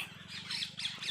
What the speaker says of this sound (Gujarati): બહુ જ પોપટ બોલે છે